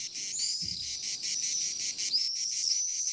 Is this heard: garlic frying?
no